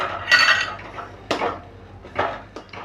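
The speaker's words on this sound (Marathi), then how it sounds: "आता घट्ट असा गोळा होईपर्यंत आपल्याला सतत हे हलवत राहायचे" Mawa and a mango-coconut mixture stirred in a pan with a utensil: a few close scraping strokes and light clinks against the metal at an irregular pace, with no speech.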